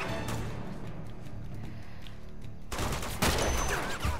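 Uncharted 2: Among Thieves gunfire: after a quieter stretch of game ambience, a dense, loud burst of rapid shots fills the final second and a half.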